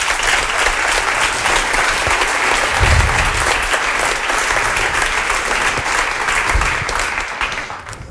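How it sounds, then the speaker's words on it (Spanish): An audience at the inaugural XR Fest gathering applauds steadily, loud continuous clapping that holds for about eight seconds before tapering at the end. "que por favor os pido que les deis un aplauso"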